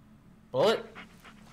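A dog in the Blair Witch video game pants and whimpers in a short, loud burst of breathy, rising whines, then quieter breaths trail off over a low background hum.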